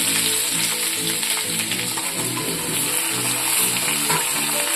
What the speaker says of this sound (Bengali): ভেন্ডিটাও ভাজা হয়ে গেছে হালকা করে ভেজে নিয়েছি